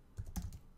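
A few soft, close keystrokes tap on a computer keyboard in a quick cluster, faint against a quiet background.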